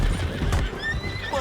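A horse in the Red Dead Redemption 2 video game whinnies with a shrill, rising neigh, accompanied by hoof clip-clops and low ambient game noise.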